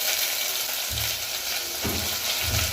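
An onion, ginger, garlic and coconut paste for misal sizzles loudly in hot oil with a constant crackling hiss, broken by a few soft stirring thumps.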